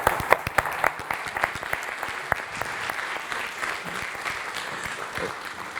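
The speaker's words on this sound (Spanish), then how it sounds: "Un aplauso para vosotros por haber hecho esta presentación tan fantástica." An audience at an education presentation breaks into applause, sharp individual claps standing out early before settling into a sustained, fairly loud patter of many hands.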